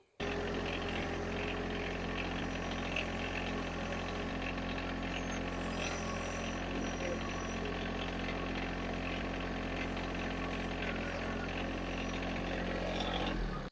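A John Deere 1025r compact tractor runs with a steady, continuous engine drone while moving a camper, held at an even level throughout with no break in the sound.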